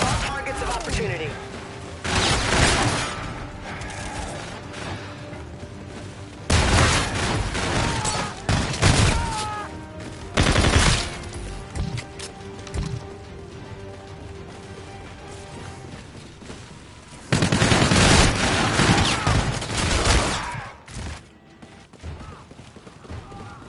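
Bursts of gunfire from a shooting video game's gun game mode, with dense volleys that come and go in several loud clusters over a steady background of game noise.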